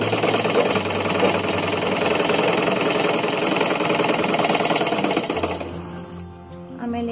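Electric sewing machine stitching a blouse hem, a fast steady mechanical whirr running continuously, then slowing and stopping near the end with lighter clicks.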